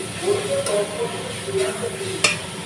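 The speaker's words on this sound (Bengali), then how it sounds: "মাছগুলো দিয়ে দিয়েছি, দিয়ে ভালো করে এখন মিশিয়ে নেবো এর মধ্যে" Fish being stirred into a fried onion mixture in a hot pan, a steady sizzle and hiss with scraping strokes and a sharp metallic tap near the end, close by, with a voice talking at times.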